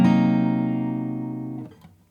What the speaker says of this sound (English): C half diminished